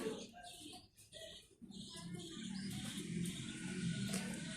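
Mundiya pigeons at a farm, soft throaty cooing and a few chirps close by against a low murmuring background, with faint voices in the mix.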